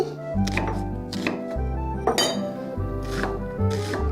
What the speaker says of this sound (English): I'm going to start by cutting the onions